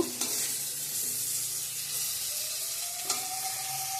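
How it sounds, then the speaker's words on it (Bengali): Pointed gourd (potol) slices fry in a pan with a loud, steady close sizzle, broken by a couple of sharp stirring scrapes, with no talk. "পুটুল ভাজাটা করে নিচ্ছি"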